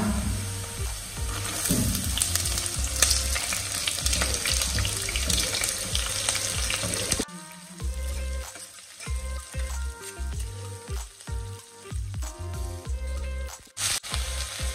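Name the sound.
garlic and onion frying in pan for masala khichdi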